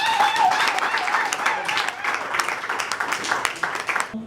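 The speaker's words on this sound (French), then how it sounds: "nous pouvons applaudir pour les parents" Wedding guests at a ceremony in Kinshasa clap for the parents, a lively patter of hands that swells early and then thins into scattered, uneven claps, with some voices mixed in.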